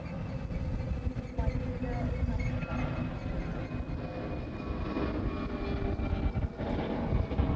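A large jet, such as an A380, 747 or C-17, climbs out overhead at Honolulu airport in Hawaii, a broad distant roar that stays steady and fairly faint throughout.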